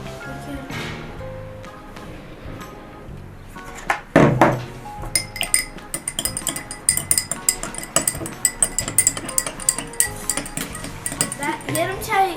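Borax for homemade slime is poured into a glass and then stirred, giving a thump and rattle followed by rapid, bright spoon-on-glass clinks that repeat busily and keep on to the end.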